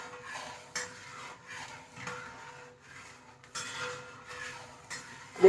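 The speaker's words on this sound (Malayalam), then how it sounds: "ഒഴിച്ചു കൊടുത്താൽ പിന്നെ നമ്മളിങ്ങനെ കൈയെടുക്കാതെ ഇളക്കി കൊടുക്കണം" Ashoka flower lehyam is stirred continuously in a pot, producing a faint, repeated rhythm of soft scraping and dull knocks against the vessel, with a quiet low hum running underneath.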